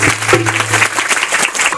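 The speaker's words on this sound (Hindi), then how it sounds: "तालियों के साथ" Applause from a congregation gathered in a church hall, a short steady burst of many hands clapping at close range, with a voice briefly audible over it.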